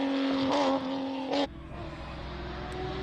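A BMW 325iS classic car engine at a Cape Town hillclimb runs loud and close, a steady droning note with a brief higher rev burst before settling back to a lower, rougher idle-like rumble.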